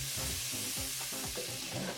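Butter sizzles steadily in a hot pan for mofongo with shrimp, a continuous close frying crackle with a few stirring scrapes and no talk.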